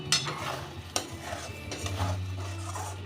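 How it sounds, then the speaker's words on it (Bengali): Fried potatoes are stirred into a spiced masala with peas in a pan, with scraping spatula strokes and a couple of sharp clinks over a low sizzle, close and unaccompanied by speech. "এবার দিয়ে দেবো এই ভেজে রাখা আলুটা"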